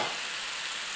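Chicken pieces brown in a pan for coq au vin, giving a steady, even, fairly quiet sizzle with no talk over it.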